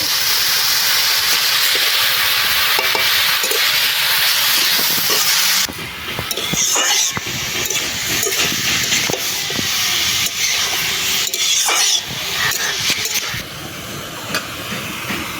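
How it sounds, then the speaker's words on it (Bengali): Bottle gourd is stir-fried in hot oil for lau shukto, making a broad, steady hiss and sizzle with intermittent clatter and scraping as it is stirred. "লাউটা এবার তেলের সাথে ভালো করে একটু কষিয়ে নেব।"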